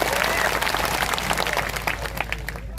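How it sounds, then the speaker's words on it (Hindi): A crowd bursts into strong applause at a political party launch event, loud and dense at first, then gradually thinning toward the end, with a low hum underneath. "इसलिए एक बार जोरदार तालियां आप सबके लिए।"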